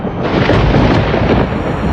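Cartoon thunder from an electrical storm rolls loudly and continuously, a dense rumbling roar with a few sharper cracks, heard alone without voices.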